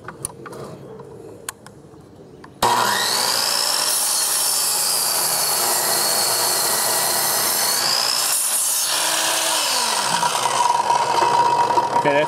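A power tool starts abruptly and then cuts steadily through wood for a simple table or desk. The cut is loud and close with a high whine and a drop in pitch near the end, and it follows a few seconds of quiet shop noise with light taps.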